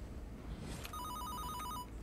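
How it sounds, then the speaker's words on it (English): Telephone ringing in a Fortnite horror map, a faint warbling electronic ring in quick repeated pulses that starts about a second in and sounds distant under quiet game ambience, with no talk. "Oh, phone is ringing."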